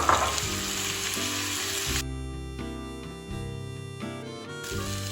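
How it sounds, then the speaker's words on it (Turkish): Chestnuts go into a pot of meat pilaf, sizzling and frying steadily in the fat with faint stirring, a continuous close crackle under gentle background music and no talk. "Şimdi kestanelerimizi de içine alıyoruz."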